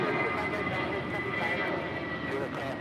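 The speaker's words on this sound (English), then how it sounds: "That is Spirit Airlines 816 departing to Kansas City on an A320." A Spirit Airlines A320 airliner departs LAX with a steady, broad engine roar carrying a faint whine, continuous and fairly loud, with a muffled voice in the background.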